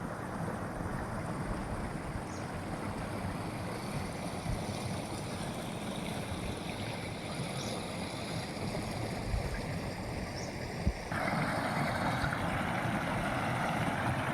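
A river flows past a quiet riverbank beside a farm at seven in the morning, a soft continuous wash of moving water heard at a distance with faint birds and a little wind.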